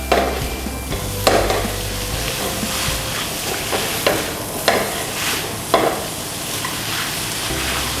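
Pad see ew noodles sizzle in a hot pan as a spatula scoops and tosses them, giving repeated sharp scraping clacks over a continuous close frying hiss, with no talking.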